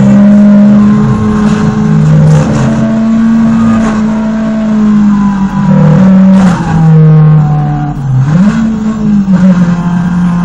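A race car in Need for Speed roars close and loud, its engine revving steadily with pitch dips and rises at gear changes, continuous for the whole stretch.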